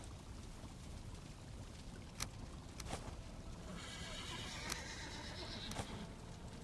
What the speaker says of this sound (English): We're gonna feed the horses.